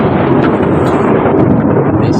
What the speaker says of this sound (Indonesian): Bapak memang yang namanya petir itu suaranya begitu itu